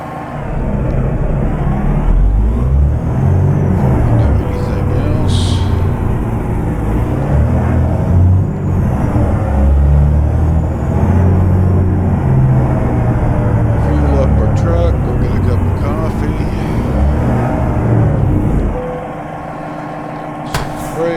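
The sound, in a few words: semi truck pulling up to fuel pump, American Truck Simulator video game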